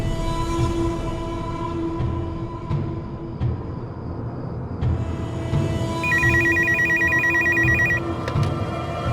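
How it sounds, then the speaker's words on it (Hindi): A telephone rings repeatedly in a domestic crime drama scene, a steady electronic ring pattern heard close and clear over a low background hum, with a brighter trill joining near the end. "तू बार बार फोन करेगा तो अर्चना आ जाएगी क्या फोन पे?"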